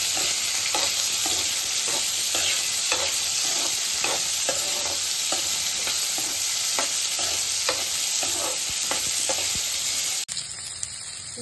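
Onion pieces sizzle steadily in hot oil in a pan for paneer masala curry, with regular scraping stirs every second or so, close and continuous, ending in a brief clatter.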